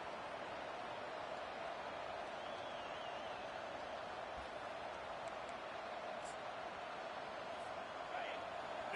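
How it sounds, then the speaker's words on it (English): Steady roar of a stadium crowd in a college football video game, Tennessee versus Ole Miss, forming a dense, unbroken wash of noise that holds at an even level throughout with no distinct cheers standing out. "This crowd trying to make life miserable for this offense."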